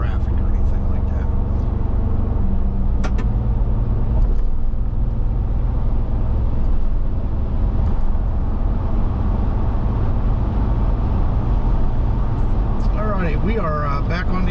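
Ford Bronco cruising on the interstate, a steady loud road and engine drone inside the cabin with constant tire roar, unbroken from start to end.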